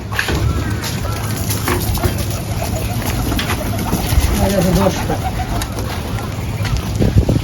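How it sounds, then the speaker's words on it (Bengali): Pigeons coo in a garden aviary, soft repeated coos rising midway through a steady wash of outdoor wind and background noise, with faint voices nearby. "একটা আছে কবুতর"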